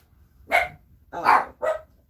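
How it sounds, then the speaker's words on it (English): Dogs bark in the background of a home kitchen, three separate sharp barks spaced about half a second apart, moderately loud with no talk over them. "I do have the dogs. You're hearing them in the background."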